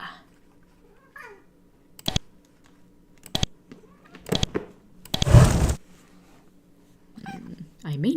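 A real cat meows a few times for dinner in a quiet room, the calls short and fairly close, mixed with keyboard clicks and a voice talking.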